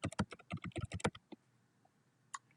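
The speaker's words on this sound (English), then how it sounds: "And I'll still have to type in the subject." Quick typing on a computer keyboard, a burst of about a dozen crisp clicking keystrokes close by, then a short pause and a couple of stray key taps.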